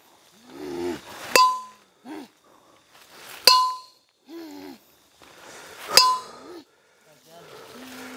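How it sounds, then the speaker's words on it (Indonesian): Bell struck in a series of sharp metallic clangs, each with a short ringing tail, spaced a second or two apart, while a voice speaks between the strikes. "Kalau kamu kuat, dengarkan ini, lonceng ini."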